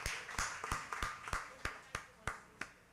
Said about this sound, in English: Hey, a round of applause.